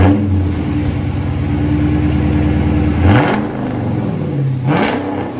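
A Dodge Charger R/T with a Hemi V8 and its mufflers and resonators removed idles with a loud, deep burble, then revs up sharply twice in quick bursts before settling back, close and unmasked by talk.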